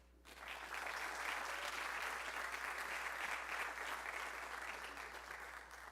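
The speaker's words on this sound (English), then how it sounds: "let's start with a round of applause for everyone we're going to hear coming up" Audience at the POWERUP DC 2022 business conference opening session breaking into applause, a broad, steady roar of many hands that swells quickly and holds evenly, slightly distant in a large hall with a low hum underneath.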